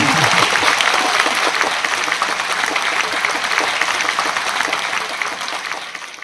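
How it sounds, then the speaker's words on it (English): An audience applauds a singer after a heartfelt song at an online arts gathering, a dense, steady wash of many hands clapping, fairly loud and continuous throughout with no voices. "Let's give him another round of applause."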